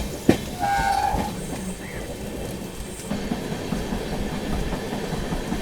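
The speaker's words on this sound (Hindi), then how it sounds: "यहाँ पर एक्सेलरेट कर लिया अपनी अमृत भारत एक्सप्रेस ने गोविंदपुरी से निकलते ही" The Amrit Bharat Express accelerates away from Govindpuri in heavy rain, giving a continuous rumble and clatter of wheels on rails, with a brief tonal whistle near the start and rain noise beneath.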